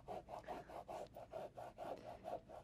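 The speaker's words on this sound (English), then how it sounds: "I think most of the masking fluid has just dried, so I can take it off with my finger at this point." A fingertip rubs dried masking fluid off watercolour paper in quick, even back-and-forth strokes, about four per second, producing a soft, close, papery scratching rhythm.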